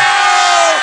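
A large crowd shouts and cheers for the LVK 2010 winners in one short, loud, sustained burst.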